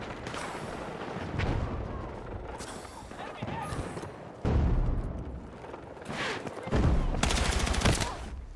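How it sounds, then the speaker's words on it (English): Gunfire from a shotgun in the video game Battlefield 6, with several loud booming blasts spread across the stretch over a dense, busy battle din, and players talking over it. "Was that a shotgun? It was, wasn't it?"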